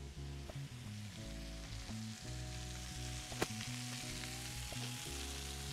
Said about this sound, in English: I'm gonna brown each meatloaf on each side